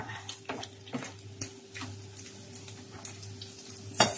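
Leftover chicken crackles softly as it is toasted in a pan, with a steady low sizzle broken by small irregular pops and ticks. The sound is fairly quiet and there is no talking.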